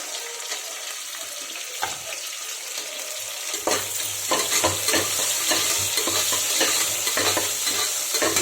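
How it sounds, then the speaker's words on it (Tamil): Shallots frying in a pan, a loud continuous hiss and crackle up close, growing busier partway through with repeated stirring clatter and a steady low hum beneath. "சின்ன வெங்காயம் சேர்த்துக்கலாம்."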